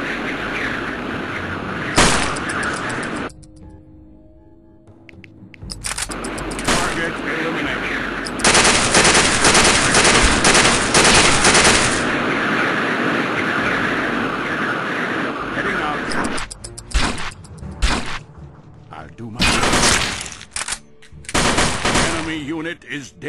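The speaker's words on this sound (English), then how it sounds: "They're shooting." Rapid automatic gunfire from a UFO: Afterlight firefight, loud bursts of machine-gun fire starting and stopping over the whole stretch, with brief quieter gaps between volleys.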